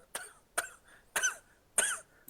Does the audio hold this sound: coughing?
yes